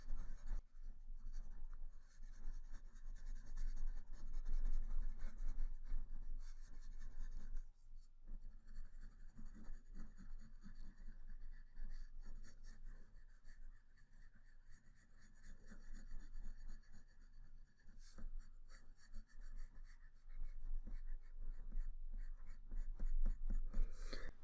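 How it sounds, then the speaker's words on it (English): Pencil shading on paper for a still life drawing, laid down very lightly in layers: a continuous soft scratchy rasp of graphite strokes, close and quiet, with brief pauses and no talking. "we do that by drawing very lightly and in layers"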